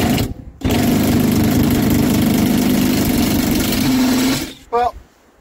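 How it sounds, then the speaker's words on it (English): An impact wrench removing the rear bolts from the bench seat of a 1992 Ford F-150: one loud, sustained buzzing rattle lasting about four seconds, close by, followed by a short voice. "got my impact. I remove the rear bolts first."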